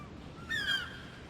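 A single short bird call rings out in an Unreal Engine video game, a brief clear honking caw over a steady low background hum.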